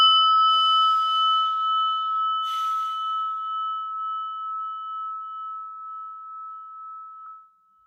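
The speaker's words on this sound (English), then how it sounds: "we're going to start with our little prayer bell" A small prayer bell is struck to open a meditation: a bright ding, then a second strike, each leaving a clear, sustained ring that slowly fades into silence.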